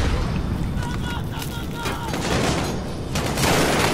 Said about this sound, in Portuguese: O cara taca granada na gente um monte de uma vez